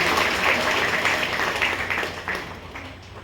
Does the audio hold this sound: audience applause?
yes